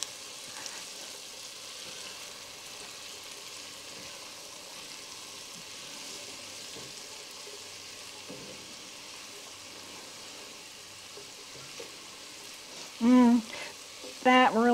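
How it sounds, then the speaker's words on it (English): Onions sauté in a pan for a cauliflower soup, a soft, even sizzle heard close up, with a couple of sharp spoon knocks against the pan near the end. "That really smells good, these onions sauteing"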